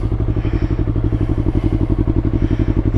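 A Yamaha R3 motorcycle engine idles loud and close just after a cold start, with a steady rapid exhaust pulse and some mechanical clatter, with no voices.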